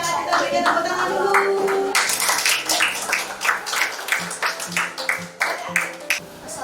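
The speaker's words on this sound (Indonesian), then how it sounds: "Kita berikan tepuk tangan dulu." A classroom group gives a short burst of clapping, uneven and fairly close, which breaks off after a couple of seconds into scattered claps and taps, with murmuring voices around it.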